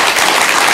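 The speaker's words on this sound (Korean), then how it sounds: "박수 한번 드리세요." Audience applause honoring a chairman at a Korean gathering, a brief dense wash of many hands clapping, loud and close with no gaps.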